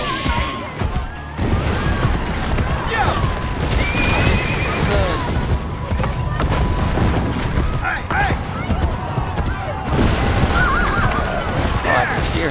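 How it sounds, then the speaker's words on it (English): A white horse neighs and whinnies several times amid hoofbeats and loud game-style crashes and booms in Assassin's Creed Brotherhood, with a voice talking at moments. "Woohoo, horse. Prepare to run away on my white steed."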